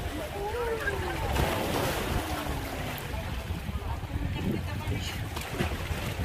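Hot spring water gushes up from under the sea off Vulcano island in Italy. A steady, loud rushing and bubbling of water fills the whole stretch, with wind and voices mixed in.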